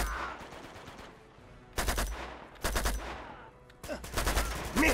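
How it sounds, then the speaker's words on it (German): Weapon fire in the video game Uncharted 2, set in Nepal, three loud bursts of automatic shots separated by quieter pauses, close and punchy. "Da macht geilen Schaden die Waffe."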